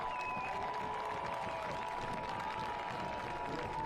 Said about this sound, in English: More round of applause for the hometown Ibarra.